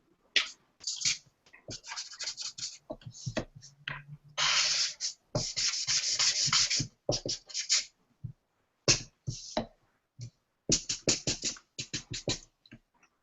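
Copic alcohol markers color on paper in quick, close strokes, short scratchy swipes coming in irregular bursts with brief pauses, faint and alone with no talking.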